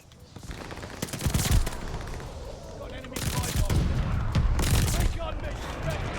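A gold MP40 submachine gun fires in a shooter game in rapid sustained bursts of sharp cracks, loud and close, with a short pause between two long volleys.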